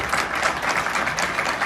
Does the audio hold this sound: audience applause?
yes